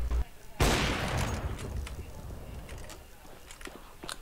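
Gunfire in the online shooter CS:GO, a sudden loud burst of rapid shots followed by a decaying ring and scattered fainter shots, with a voice talking briefly underneath.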